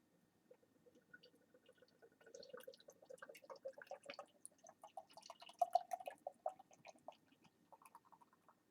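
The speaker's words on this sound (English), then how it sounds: "let's just go and pour this one out." Paulaner Münchner Hell lager pours from a bottle into a glass, a quiet stream of gurgles, drips and fizzy crackles that build up over several seconds, close and soft with no talk.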